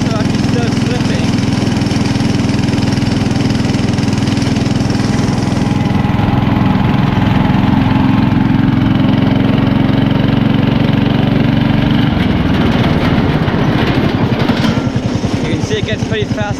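A homemade party bus with slipping drive belts climbs a big hill, its engine droning loud and steady, then revving harder with a rising, rough, pulsing roar toward the end as the belts grab.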